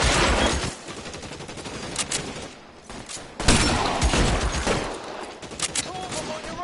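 Gunfire in the game LA Noire rattles in dense, overlapping bursts of automatic and single shots, loud and close, with shouting voices mixed in throughout.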